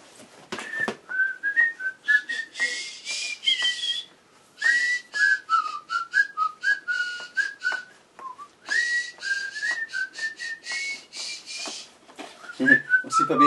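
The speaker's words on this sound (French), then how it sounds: "c'est pas bien sifflé" A person whistles a wandering melody at close range, in short phrases with brief pauses, outdoors at a rainy toy swap meet.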